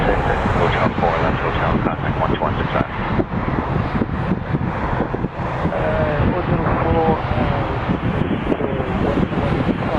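An Air Canada Boeing 787-9 Dreamliner bound for Heathrow passes Toronto Pearson airport, its engines a steady, broad roar that holds throughout, with wind buffeting the microphone and a voice talking faintly underneath.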